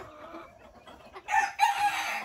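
A Belgian chamois ornamental rooster crows and clucks outdoors among brush, with a short burst of fairly loud calling in the second half.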